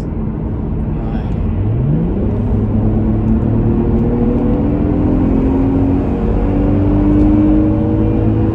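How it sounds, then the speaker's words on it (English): A Mercedes-Benz SL 350 R230 with a V6 engine revs up, its smooth note climbing steadily in pitch and holding strong. It is loud and close, with a steady rumble underneath and no talking. "Very European sounding V6. It just sounds clean."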